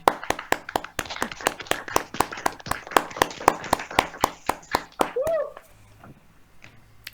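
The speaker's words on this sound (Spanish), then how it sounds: "Les pido que prendan sus micrófonos y den un aplauso a los 3 equipos que presentaron." Participants in an online class clap over their microphones in a steady, sharp run of about twenty claps, dry and close, before a brief voice cuts in and the sound drops away.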